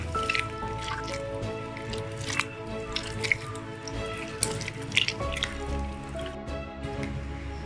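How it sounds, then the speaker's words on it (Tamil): Tamarind squeezed and dissolved by hand in a bowl of warm water for cleaning pooja vessels, giving soft wet squishing and dripping sounds at close range over a steady low background hum. "இந்த மாதிரி புளியை ஃபுல்லாக தண்ணியில் கரைச்சி விட்டுருங்க."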